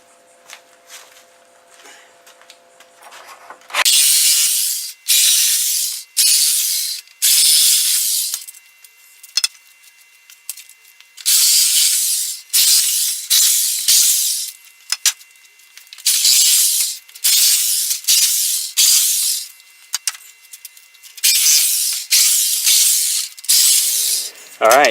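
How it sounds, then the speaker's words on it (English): Repeated bursts of cutting, likely a power saw, slice through nails hidden behind a wooden pallet plank, a series of loud, close, abrupt cuts separated by short pauses, with quiet moments between, no talking. "Just cut those nails behind there."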